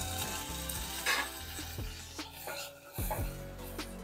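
Curry leaves and garlic crackle and sizzle in hot oil in a pan while Malvani karvanda curry is cooked, with a steady frying hiss broken by sharp pops and stirring scrapes.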